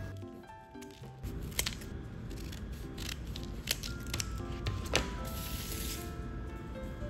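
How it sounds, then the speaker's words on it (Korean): Scissors snip repeatedly through several layers of paper folded twice horizontally and twice vertically, cutting along three sides, with crisp close cuts rising over a steady background bed. "왼쪽을 고정하고 나머지 세 면을 잘라줍니다."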